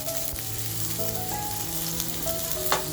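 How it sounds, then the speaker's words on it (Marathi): Garlic and ginger pieces fry in hot oil, a close, continuous sizzle with bubbling crackle and faint stirring, no voices. "बघा तेल छान तापलंय. लसूण आणि आल्याचे तुकडे घेतले ते अगोदर आपण टाकून घेऊया."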